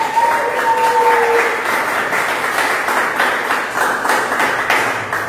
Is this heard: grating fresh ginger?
no